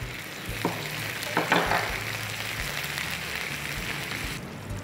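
Smoked beef and chili sizzle in a frying pan while aglio e olio is cooked, a constant close hiss with a couple of sharper crackling bursts early on.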